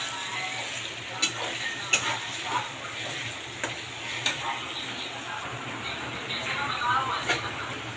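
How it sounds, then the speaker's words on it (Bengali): Carrots fry in a pan with a constant sizzle, broken by scattered scrapes and taps from stirring, and a voice comes in faintly now and then. "গাজর ভেজে নিচ্ছি"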